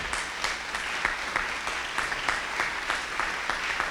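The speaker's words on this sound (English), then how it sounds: "let's give them another round of applause." A crowd at a Teacher of the Year ceremony applauds steadily, a dense patter of many hands clapping with some louder individual claps standing out.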